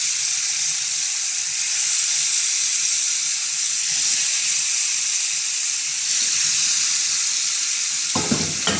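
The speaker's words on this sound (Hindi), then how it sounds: "अब हम चिकन को हाई फ्लेम पर 2 मिनट फ्राई करेंगे।" Chicken pieces frying in hot oil over a high flame, a loud continuous sizzle and hiss with a brief clatter near the end, close up and without speech.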